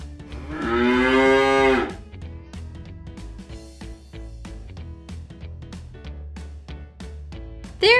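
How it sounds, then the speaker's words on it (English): A cow lets out a loud, drawn-out moo lasting about a second near the start, followed by a quieter stretch with a steady ticking, plucked musical backing. "Great job! It's a cow."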